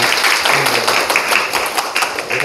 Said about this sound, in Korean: 박수로 한번 더 감사합니다